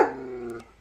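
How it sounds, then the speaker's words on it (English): A dog growls low and close in one short sustained rumble that fades after about half a second, with no other sound around it. "beware of mean dogs"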